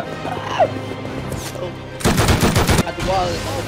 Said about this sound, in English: I'm getting shot from elsewhere.